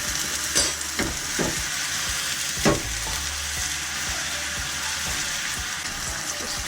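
Meatballs coated in barbecue sauce sizzle steadily in a hot pan with spring onions, a close, constant frying hiss broken by occasional scraping stirs.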